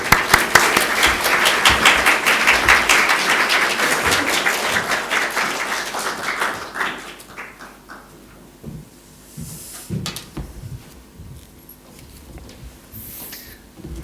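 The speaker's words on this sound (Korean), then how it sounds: "우리 선교사님 나오실 때 뜨거운 박수로 모시겠습니다." A church congregation breaks into loud, dense applause to welcome a missionary to the pulpit; the clapping is strongest at first, then thins into scattered claps and shuffling as the room settles.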